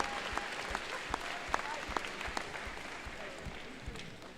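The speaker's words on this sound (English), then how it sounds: "Let's give a round of applause to our number 6 alliance." Crowd at a FIRST robotics alliance selection event applauding the number 6 alliance, faint, distant clapping with a few sharper individual claps standing out in a large echoing venue.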